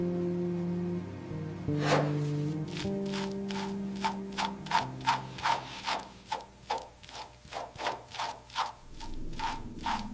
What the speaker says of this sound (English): The transformation truly begins with the grit of sandpaper.